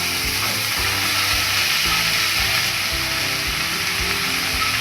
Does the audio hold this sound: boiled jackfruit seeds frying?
yes